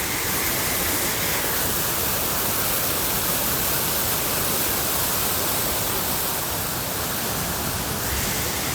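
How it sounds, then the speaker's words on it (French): Waterfall roaring steadily as a loud, continuous broadband rush of falling water close by, unbroken for the whole stretch with no voices over it. "je sais pas si vous m'entendrez avec le bruit de la cascade"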